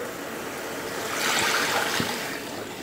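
Water pours steadily into a pan of pancit canton cooking with soy sauce and oyster sauce, a continuous splashing rush that swells in the middle.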